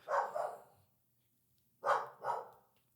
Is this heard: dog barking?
yes